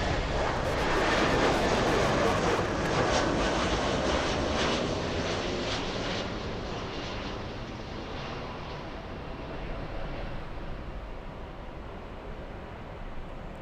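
A twin-engine Airbus A330-200 arriving at Los Angeles International Airport, its engine roar loud and broadband at first, then easing into a steady, slowly fading rumble with no voices.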